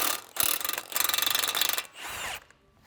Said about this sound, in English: I'm going to put one on my impact and try to zap it off.